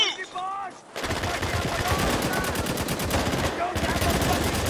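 Sustained automatic gunfire in the Ryan Gosling: The Line video game, a loud rapid rattle of shots that starts after a short pause and runs almost continuously to the end.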